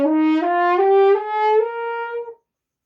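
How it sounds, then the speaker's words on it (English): A natural horn plays its harmonic series: a bright, rich sustained tone whose pitch steps upward slightly over about two seconds, then stops abruptly. "This is the harmonic series of this particular crook, and it sounds like this."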